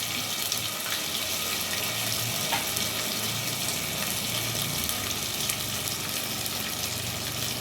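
Ginger-garlic paste sizzles in hot ghee in a pan while chicken rezala is cooked, a steady broad frying hiss that stays at an even, moderate level from start to finish, with no talk.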